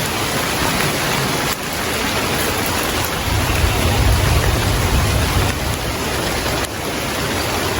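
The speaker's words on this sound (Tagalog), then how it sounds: "Yan mga idol, naabutan kami ng ulan." Steady, dense rain pours down in a continuous loud hiss with a low rumble underneath, no voices, unbroken throughout.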